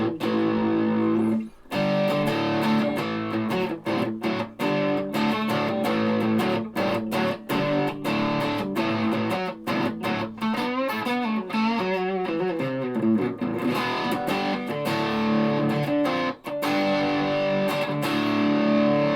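An electric guitar with old, dead strings played through distortion, with loud chords and riffs ringing continuously for nearly twenty seconds and brief pauses between phrases, close and dominant, with no speech.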